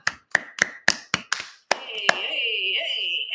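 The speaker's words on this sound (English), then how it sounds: "They clap for him." A few people clap in short, separate bursts of about seven sharp claps, close and fairly loud, followed by a longer sustained tone with a voice talking underneath.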